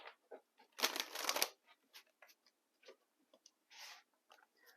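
Tarot of Dreams cards are shuffled and pulled, with one short riffle burst near the start followed by scattered soft card taps and slides, close and quiet.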